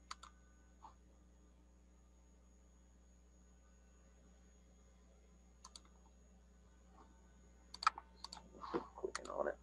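Sparse computer mouse clicks and short bursts of keyboard typing sound close by against a quiet room with a steady mains hum. Most of the keystrokes bunch together near the end.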